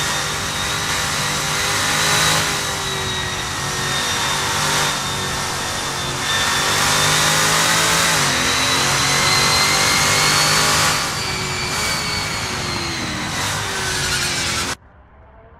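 Lola T70 MKI Spider race car from Assetto Corsa, at Interlagos 1975, revving loudly and steadily for about fifteen seconds with rising and falling pitch through gear changes, then cutting off abruptly.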